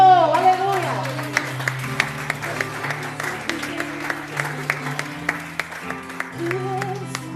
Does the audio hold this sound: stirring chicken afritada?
no